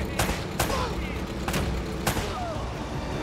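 Gunfire from the video game Uncharted: Drake's Fortune rings out in four sharp, loud shots spaced about half a second to a second apart, over a rumbling game background with voices faintly present.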